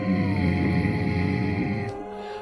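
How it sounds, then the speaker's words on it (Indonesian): A low, sustained growl from a ghostly creature in a horror tale, a deep droning rumble held for a couple of seconds before it cuts off abruptly. "Hanya geraman yang terdengar oleh sosok yang mirip Kang Sujanto ini."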